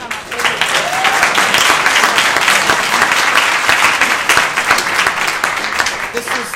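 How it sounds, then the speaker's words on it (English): Audience applause at a SharePoint Saturday conference panel in Johannesburg, a loud, steady burst of many hands clapping that carries on for several seconds without a break. "I want to give a round of applause for you guys to come up here."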